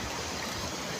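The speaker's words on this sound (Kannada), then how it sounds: "ನೋಡಿ ಕಲ್ಲಲ್ಲಿ ಯಾವ ಥರ ನೀರು ಹೋಗ್ತಾ ಇದೆ" Malaprabha river water flowing over rocks, a quiet, continuous rushing babble heard briefly and evenly throughout.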